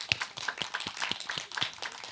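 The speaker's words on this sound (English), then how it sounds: "Teams, give yourselves a round of applause." Students clapping in a short, scattered burst of applause, a dense patter of claps at moderate volume with no voices over it.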